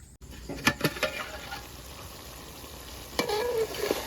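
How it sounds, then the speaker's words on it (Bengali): Mutton curry fries and is stirred in a pot, a soft steady sizzle broken by a few sharp scraping clinks early on and again near the end. "মাংস মোটামুটি কষানো হয়ে এসছে"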